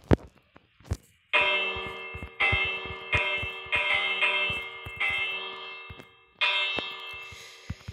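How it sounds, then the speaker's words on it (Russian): Small hand bell rung in a survival video game, a series of bright metallic rings struck in uneven bursts, each sustaining and overlapping before fading, close and clear with no voices. "Ладно, позвоню колокольчик."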